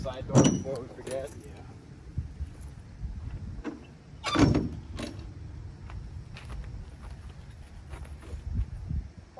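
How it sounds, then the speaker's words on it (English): Side door of a Ford Mustang Bullitt being handled and shut, giving two loud metallic clunks with smaller rattles and clicks between them, with voices talking. "we gotta start to close the side door before we forget"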